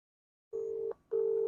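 Two bursts of a steady electronic ringback tone from an outgoing phone call, clear and close, separated by a short pause.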